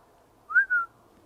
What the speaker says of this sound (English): It sounded like a whistle.